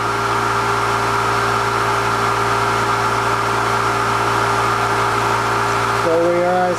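A prototype ETS motor runs steadily at about 70 volts and 3,400 RPM, giving a constant loud hum with steady tonal whine, and a rising electronic tone enters near the end.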